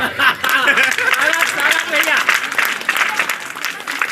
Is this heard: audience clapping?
yes